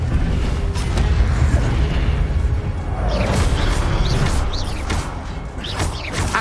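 Fire spell cast in Hogwarts Legacy on PS5, a dense roaring whoosh with booming rumbles and crackling bursts filling the whole stretch, loud and continuous with mechanical creaks layered in.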